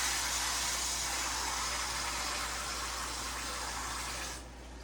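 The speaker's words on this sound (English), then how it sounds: "I'm going to pour a little bit more water in there." Water pours steadily and loudly in a continuous stream, then cuts off abruptly near the end, leaving a faint low hum.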